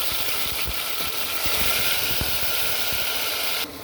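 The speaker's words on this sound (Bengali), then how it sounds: "এবার দিয়ে দিব জিরা বাটা" Cumin paste goes into hot oil and gives a close, continuous hiss and sizzle with a low rumbling undertone. The sound stays steady, then drops suddenly at the end.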